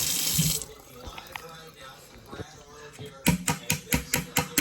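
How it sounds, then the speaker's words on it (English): Tap water runs over chopped onion in a kitchen, a steady rinse followed by a run of rhythmic splashy bursts as the onion is shaken and drained, close and fairly loud. "You take the chopped onion, and just rinse it with a little water."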